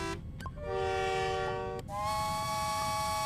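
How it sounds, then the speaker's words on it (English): A deep, steady tugboat horn used as a kart horn in the game LittleBigPlanet Karting sounds in two long blasts, the second following a brief break, loud and close. "You're driving a car, you're honking your horn, it's a tugboat, of course."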